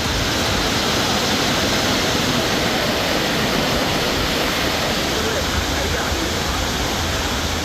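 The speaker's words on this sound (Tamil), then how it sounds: "கொடைக்கானல் மலைப்பகுதியில் பெய்த தொடர் மழை எதிரொலியாக வெள்ளி நீர்வீழ்ச்சியில் நீர்வரத்து அதிகரித்தது." Silver Falls in Kodaikanal pours heavily after rain, a loud, dense and unbroken roar of rushing water that fills the whole clip at close range.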